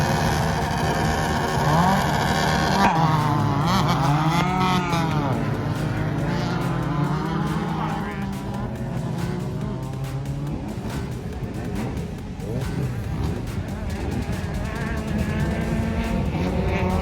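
Off-road race vehicles racing near Primm, a continuous loud buzzing engine roar with revving pitch changes as machines accelerate and pass, dense and unbroken throughout.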